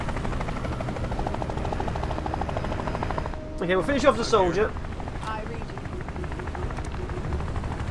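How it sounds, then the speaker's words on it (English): A helicopter's rotor chops through audio from the video game Phantom Doctrine, with bursts of gunfire and effects, while someone talks over it. "Oh, a helicopter!"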